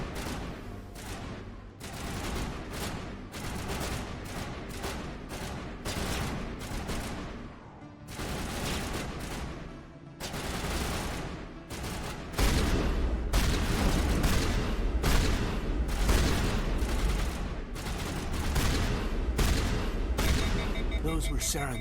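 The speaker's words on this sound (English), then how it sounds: "This is why I use a shotgun, guys." Shotgun blasts from combat in the Mass Effect video game, repeated heavy booms in quick, uneven bursts that grow denser and louder toward the end, layered over game sound with voices talking.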